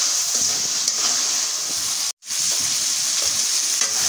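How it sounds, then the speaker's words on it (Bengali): Prawns sauté in a pan with a loud, steady, close hiss and sizzle. It cuts out briefly to silence partway through, then resumes, with faint stirring clicks and no talk. "চিংড়ি মাছটা দিয়ে একটু কষাই নেব"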